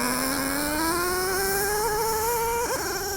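A Traxxas Revo 3.3 nitro RC monster truck engine runs close and loud, its high buzzing whine climbing steadily in pitch as it revs up, then dipping briefly near the end.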